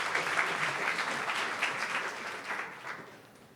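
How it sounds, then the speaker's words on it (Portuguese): An audience at a talk event claps for the event's partners, a full even round of applause that holds steady and then thins out and fades toward the end. "Uma salva de palmas aos parceiros."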